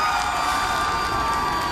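Live Eurovision audience in a large arena cheering and screaming, a dense steady roar of many voices sustained throughout.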